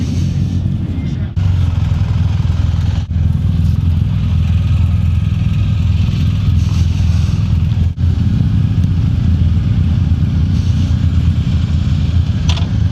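A BMW R1300 GS adventure touring motorcycle on the move, its engine a steady, loud low drone under heavy rushing wind, with a few sharp clicks along the way.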